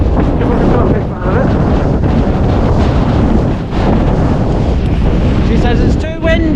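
Heavy wind on the clifftop at Mwnt batters the microphone in loud, continuous roaring gusts, and a voice breaks through near the end.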